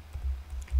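A few quick, light keystrokes on a computer keyboard as a formula is typed into a spreadsheet, soft clicks over a low background hum.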